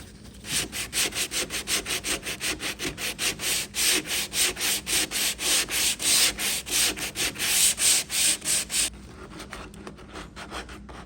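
Finish sanding of raw wood furniture by hand, a close, loud, rhythmic back-and-forth rasp of roughly thirty quick strokes that slows slightly near the end, with no talking.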